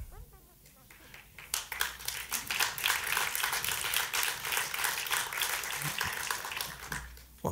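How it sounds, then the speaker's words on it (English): Lecture audience breaking into applause, clapping swelling after a quiet start and holding as a dense, fairly close patter before tapering off. "I got applause for that."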